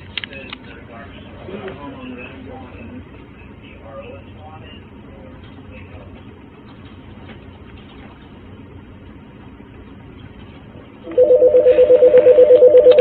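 A telephone line on a recorded police phone call sits in quiet low background hiss, then a loud, steady ringing tone starts near the end and repeats in even pulses.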